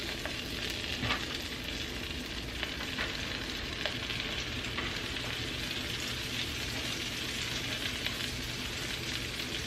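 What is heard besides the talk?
Swedish meatballs frying and sizzling in a hot skillet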